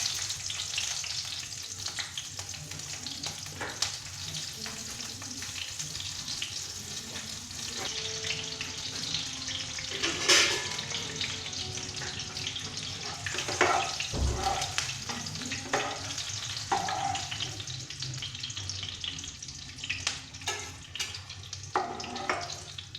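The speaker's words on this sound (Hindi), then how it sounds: "मैं थोड़ी सी मिर्ची फ्राई कर रही हूँ, उसमें नमक डाल के" Green chillies with salt fry steadily in a pan, a continuous close sizzle with occasional stirring clatter and brief running-water sounds in a home kitchen.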